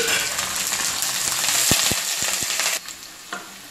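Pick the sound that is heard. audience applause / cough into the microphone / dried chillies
dried chillies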